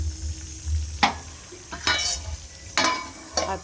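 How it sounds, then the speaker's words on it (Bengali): An onion, green chili, potato, eggplant and bitter gourd curry frying in a pan, heard as a low sizzle broken by several sharp stirring scrapes and clinks of the spatula. "এখানে হচ্ছে পেঁয়াজ কাঁচা লঙ্কা আলু বেগুন করলা দিয়ে একটা ভাজা ভাজা তরকারি হবে"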